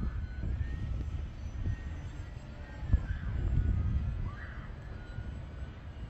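A foamboard Yak-11/Su-26 RC model plane flies outdoors, its motor giving a faint, steady buzzing whine that rises and falls in pitch as it passes over a low rumble of wind.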